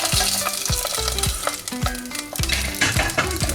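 An egg fries in an oiled stainless steel soup pot, giving a close, loud, continuous sizzle and crackle with no voices.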